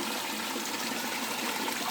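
Water from a creek rushes and splashes steadily over rocks after a log has been cleared from it, forming a dense, continuous broadband wash that stays close and fairly loud.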